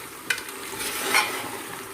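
Tomatoes and mutton frying and being stirred in a pot for Pakistani mutton biryani: a steady close sizzle with a sharp scrape of the spoon near the start and another stirring swell just past the middle.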